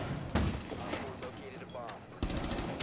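Automatic gunfire in the tactical shooter Rainbow Six Siege, with bursts of rapid shots at the start and end, loud and close, with a player's voice talking over them.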